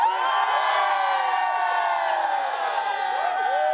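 A dense crowd cheers and whoops continuously at a DIII men's NCAA cross country championship, loud and sustained with overlapping shouts and voices throughout.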